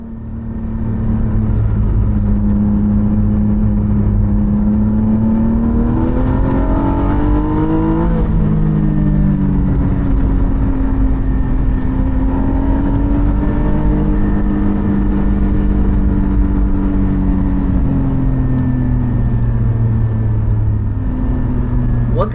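A Porsche 718 Spyder's engine revs hard on a twisty road, loud and close throughout, climbing and falling through the gears with sweeping pitch changes as the car accelerates out of bends.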